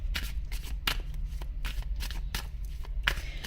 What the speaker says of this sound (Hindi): मैं कार्ड्स निकालने में थोड़ा टाइम लगा रही हूँ।